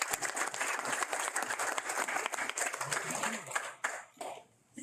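Audience at a Bicycle Safety Month proclamation signing breaks into steady applause, a dense wash of clapping from a moderate crowd that tapers off near the end.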